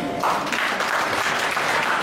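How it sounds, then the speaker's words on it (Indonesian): A church congregation at an evening praise and appreciation service breaks into steady, dense applause, loud and close, lasting a couple of seconds. "Tepuk tangan."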